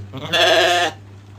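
A single sheep bleats close by during feeding, one sustained, harmonic cry lasting just over half a second over a steady low background hum, with no talk.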